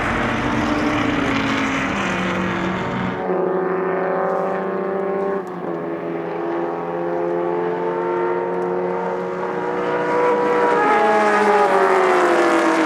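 Vintage race cars speed past at a track festival, a Shelby's V12 leading the pack, loud engines rising and falling in pitch as they pass close by and continue roaring steadily throughout.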